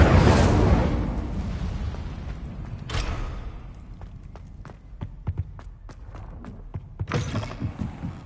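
A fire spell is cast in Hogwarts Legacy, giving a loud whooshing burst at the start and a short flare near three seconds, then sharp clicks and taps and a final crackling burst near the end.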